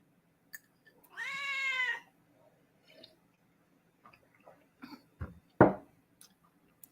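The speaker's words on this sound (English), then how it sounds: "Can you guys hear the cat?" A cat gives one clear, drawn-out meow close by, followed by scattered small knocks and a short louder thump, in an otherwise quiet room.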